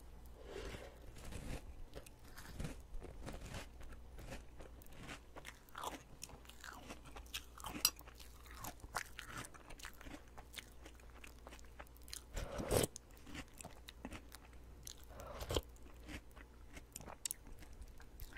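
Honey ring rice cereal in milk being chewed close to the mic, steady wet crunching and soft bites repeating throughout, with no talking.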